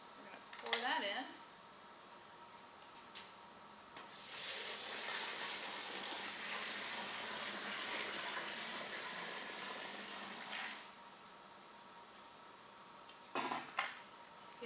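Boiling water, about 2.5 gallons at 180 degrees, poured into a bucket to make a sweet feed mash, a steady rushing pour lasting several seconds, framed by brief clanks and handling sounds before and after.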